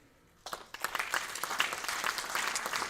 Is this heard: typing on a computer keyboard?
no